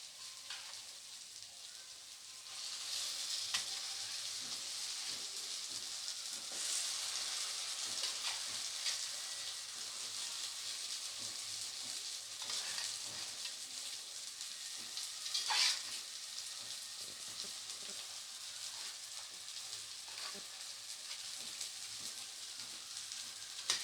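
Katla fish masala, cooked with black cumin paste, sizzles and fries steadily in a pan as pre-fried potatoes go in, a continuous crackling hiss with occasional stirring scrapes and no talk.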